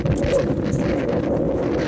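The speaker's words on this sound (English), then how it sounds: "Might be too windy." Strong wind gusts on a Hebrides hiking trail roar steadily against the microphone, a dense low rumble filling the whole moment with no other sounds.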